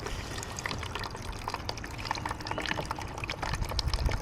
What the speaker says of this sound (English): Turn on the water and see how it works.